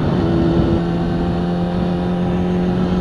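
A 2004 Kawasaki 636 motorcycle engine holds a loud, steady high-rpm drone up close for a few seconds, with no talking.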